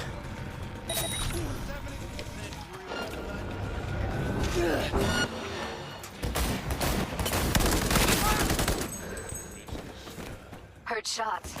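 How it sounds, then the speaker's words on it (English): Repeated gunfire from Cyberpunk 2077 crackles and thumps through a dense, loud game soundscape, with bursts clustering in the middle and late stretches while characters talk. "Heard shots."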